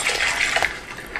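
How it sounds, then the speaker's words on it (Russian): Milk being poured onto cereal in a bowl, a short close liquid splashing and trickling stream, heard alone. "А сейчас только молоко наливают."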